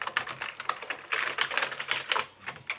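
Keys pressed on a yellowed Commodore Amiga 500 Plus keyboard, a quick irregular patter of close plastic clicks and taps, alone without talk.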